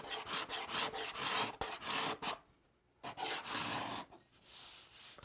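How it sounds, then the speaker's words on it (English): Wood veneer being scraped by hand, a series of close, raspy strokes in a steady back-and-forth rhythm, broken by a brief pause before the scraping resumes. "I could see I need to give it a little more scraping."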